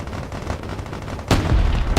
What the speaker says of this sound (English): More artillery over there just wiping out everything.